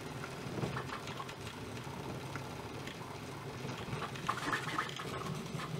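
A Bambu Lab A1 Mini 3D printer runs steadily nearby, giving a continuous mechanical whir with fine buzzing and scratchy motor texture, plus small clicks, and no voices.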